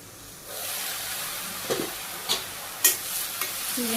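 Ash gourd and water lily stems stirred and sautéed in a pan: a steady sizzle begins after a half-second hush, with three or four distinct scraping stirs rising above it; no voices.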